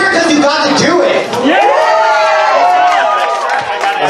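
A convention crowd at a furry event's floor wars competition cheers and whoops loudly and continuously, with voices shouting close by throughout the short burst.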